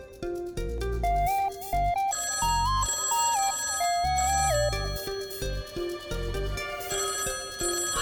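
A telephone ringtone plays a bright, repeating electronic melody over a steady beat, loud and close, with no talk over it.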